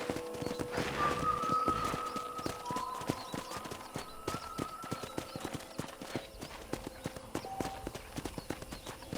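Steady clip-clop of horse hooves trotting at an even rhythm in Red Dead Redemption, with a brief neigh early on and a faint tonal ring underneath.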